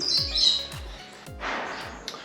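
Scarlet-chested Neophema parrots, blue Scarlets, give a few short squawks and high chirps close by, one after another, ending in a harsher rasping burst.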